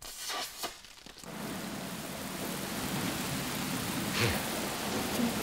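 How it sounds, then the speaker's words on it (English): Artificial rain on a film set begins as a sudden steady hiss after a brief rumble, a dense even downpour that continues to the end with a faint low thud partway through. "If it doesn't stop raining in here soon, we'll get soaked."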